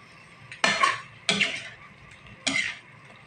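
A utensil scrapes and knocks three times against a metal cooking pot as a dish is stirred, each stroke close and clear, separated by brief pauses of low background.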